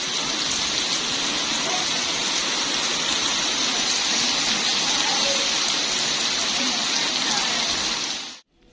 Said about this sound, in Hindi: ये देखें बारिश बहुत तेज हो चुकी है अब।